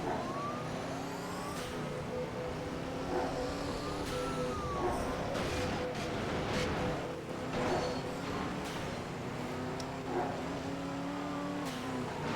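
Race cars drive in a San Diego racing video game, engines droning and revving steadily up close, with swells and bursts of noise as traffic crowds around.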